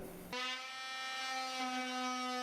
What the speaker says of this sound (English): I'm actually using a cheap biscuit jointer to do this